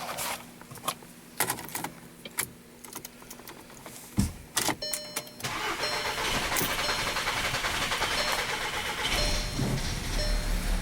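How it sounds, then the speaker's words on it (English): Starter cranking on a 2012 VW CC with a cam timing fault, a run of short mechanical clicks and bursts before the engine catches about six seconds in and settles into a steady idle. "Okay, so it did start up this time."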